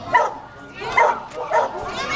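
Three short Spanish water dog barks or yips, evenly spaced and moderately close, with some background noise between them.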